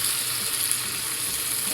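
Onions and bacon fry in a pan for a quiche, giving a steady, even sizzle that stays close and constant throughout the short stretch, with no talking.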